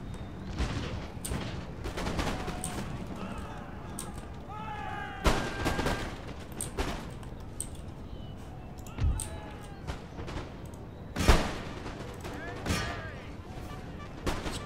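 Volleys and scattered musket shots from infantry in an Empire Total War battle against Prussians, with sharp cracks rising over a busy battlefield din while someone talks throughout.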